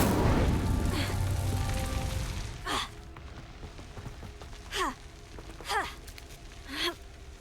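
A fire spell cast over and over in Hogwarts Legacy. A loud rushing whoosh is followed by four separate bursts, spaced about two seconds apart, each a brief swooping flare against a quiet background.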